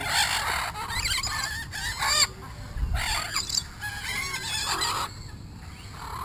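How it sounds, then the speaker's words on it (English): Chickens at a Florida exotic bird rescue cluck and crow nearby in loud, overlapping bursts, with drawn-out crowing calls broken by short gaps and choppy clucks. "Freaking chickens."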